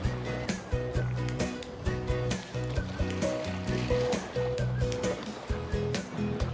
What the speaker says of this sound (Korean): 와, 파도 소리 봐.